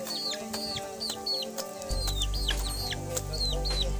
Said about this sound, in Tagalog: Ganyan po magpakain ng manok.